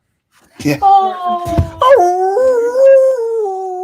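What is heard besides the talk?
dog howling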